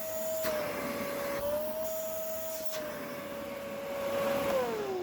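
A repaired 1900-watt vacuum cleaner runs steadily at close range, its motor whine holding a high pitch that dips slightly near the end, loud and continuous with no voices.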